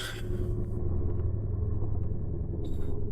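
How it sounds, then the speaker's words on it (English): Road traffic outside on a morning street makes a steady low rumble of passing cars and engines, continuous and moderately loud, heard from indoors with no talk. "What the fuck is with the traffic outside?"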